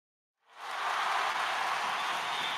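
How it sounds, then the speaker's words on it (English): Applause swells from silence into a steady, even wash of many hands, moderately distant and sustained without voices on top. "Another round of applause."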